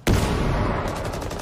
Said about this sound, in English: Explosions going off.